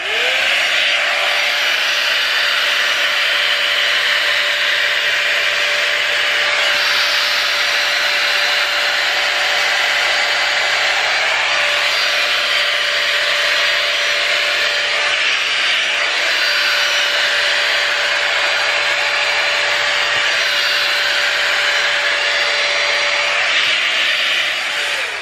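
A Dyson Airwrap dupe hair styler blows steadily at power setting 2, a loud, continuous airy whoosh with a high motor whine that runs unbroken throughout.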